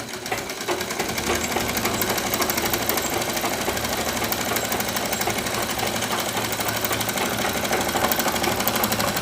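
A sewing machine runs continuously, stitching a fabric strip for a homemade hand fan, giving a fast, dense mechanical rattle at steady loudness throughout, with no talking.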